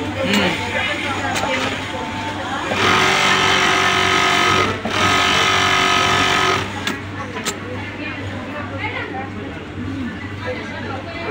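Sewing machine in a garment factory topstitching a cup, running in a steady loud burst of about four seconds with a short pause, amid background chatter and people talking nearby.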